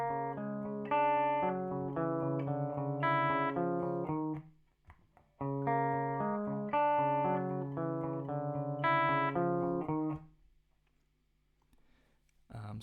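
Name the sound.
electric guitar playing second riff with distortion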